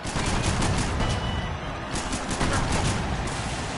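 Rapid gunfire from the violent American football video game Mutant Football League: dense, loud bursts of shots in a continuous fusillade with no talk over it.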